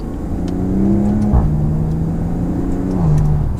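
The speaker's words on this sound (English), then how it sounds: "We'll put the sport exhaust on. And from second gear, just give it a little bit of gas here." A 2018 Maserati Quattroporte GanLusso with sport exhaust revs up under load from second gear, a deep rising exhaust drone with a brief shift dip midway, close and loud, no talking.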